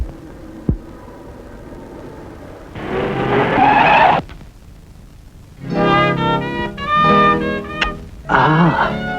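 Tires skid hard on a road as a jeep brakes to a stop across it, a loud screeching burst lasting about a second and a half, followed by music-like tones.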